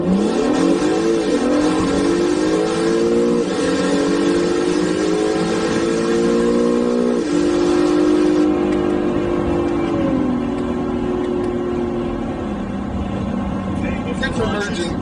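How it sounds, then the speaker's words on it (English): A 2019 Acura NSX in track mode doing a launch-control start on a road, the engine droning loud and steady as it climbs through gears with rising and stepping pitch, heard from inside the cabin with people talking over it. "let's go into track mode and see if we can do a launch control if the traffic cooperates here"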